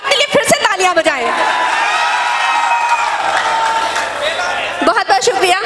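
Audience applause and cheering at a mushaira, an Urdu poetry gathering, as a broad sustained crowd wash with scattered whoops, set between stretches of someone speaking at the start and end.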